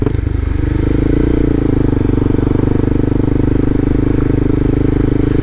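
Honda CBR300R motorcycle engine while riding, a loud, steady, close drone with rapid rhythmic pulsing that holds throughout.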